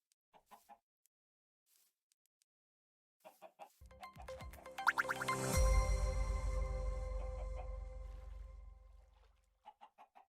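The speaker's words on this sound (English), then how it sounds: "Chickens suspect nothing." Chickens cluck in the video game Minecraft, a few short clucks at the start and end framing a louder swelling block of game noise in the middle.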